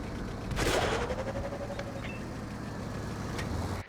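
A single heavy tank cannon blast from an IS-7 in World of Tanks, loud and sharp near the start and trailing into a rumbling decay over steady engine drone, with a faint whine after.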